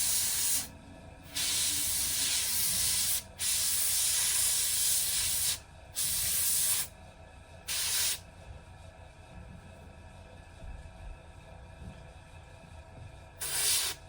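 An airbrush hisses out paint onto a painted figure held on a stand, in a steady run of bursts of varying length separated by short pauses, close and clear with no talking.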